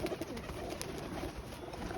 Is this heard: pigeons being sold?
yes